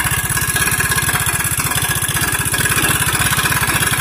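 A Honda Beat 100cc scooter engine runs with its air filter and cover removed, putting out a close, loud, steady rapid putter.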